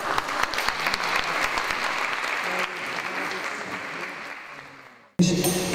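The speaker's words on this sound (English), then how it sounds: "Give them a big clap" A crowd applauds at a peace day gathering as a family band is welcomed. The clapping is loud and sustained, then slowly fades out, and a speaking voice cuts in right at the end.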